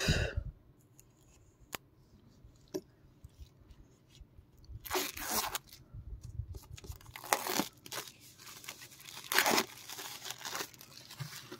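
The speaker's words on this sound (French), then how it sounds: "Donc le steelbook, je vais l'ouvrir." Plastic wrap crinkles, crunches and tears as a glossy Saint Seiya steelbook from a limited collector box set is opened, with scattered close rustles building into louder bursts of tearing.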